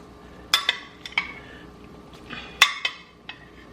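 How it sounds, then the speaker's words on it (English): Browned sausage goes back into a pot of zuppa toscana with tender kale, setting off a few sharp metal clinks and scrapes of a utensil against the pot in quick clusters, close by with no talking. "I'm going to go ahead and put our sausage back in."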